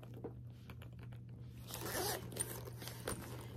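A zipper is pulled along the pocket of a black messenger bag, a soft rasping run that builds and fades, close and quiet over a low hum.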